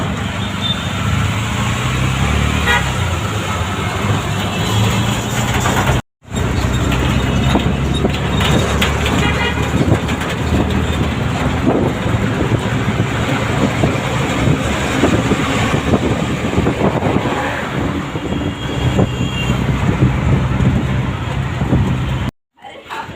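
An auto rickshaw rides along a road with a steady, loud rumble of engine and road noise mixed with wind buffeting the microphone, broken by two brief dropouts.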